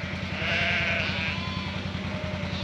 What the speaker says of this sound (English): single ewes and lambs all down here ready for tailing tomorrow.